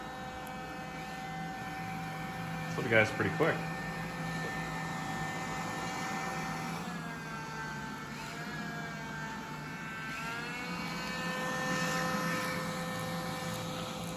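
Steady mechanical motor drone from an iRobot Scooba 200 mopping robot, with a few brief spurting bursts early on as it squirts water, continuous and fairly close, with a short spoken remark.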